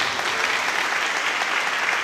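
Applause from a congregation during a Hindi Christian sermon, a steady dense patter of many hands clapping at once, held evenly throughout with no speech over it.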